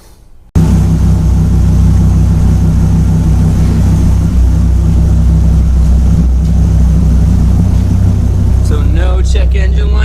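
A Dodge Viper GTS engine cold-starts after its check-engine codes were cleared: a sudden loud catch, then a heavy, steady idle rumble close by. A voice briefly enters near the end.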